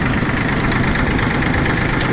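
A Yanmar YM1610D four-wheel-drive three-cylinder mini tractor idles steadily close by, a continuous even engine drone with no voices.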